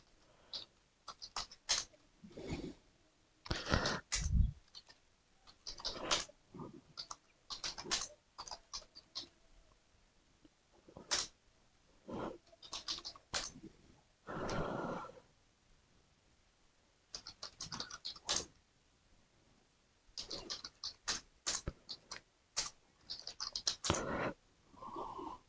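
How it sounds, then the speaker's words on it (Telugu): Student names are typed on a computer keyboard into an Excel marks list, close and quiet: bursts of rapid key clicks separated by short pauses, repeating across the whole stretch with no talking. "సో నేను ఏదో ఒక పేరు టైప్ చేస్తున్నాను"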